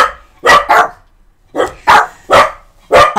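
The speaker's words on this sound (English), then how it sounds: "You do not have the power to tell him to shut up by barking." A dog barks sharply up close, about six loud barks in quick pairs and singles with short pauses between.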